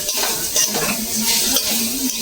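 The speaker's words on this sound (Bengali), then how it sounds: "ভালো করে নেড়ে চেড়ে নারকোলটা ছাই মেরে নেবো।" Grated coconut being stirred with sugar in a pan, a brief close scraping and rustling with light clinks of a utensil against the vessel.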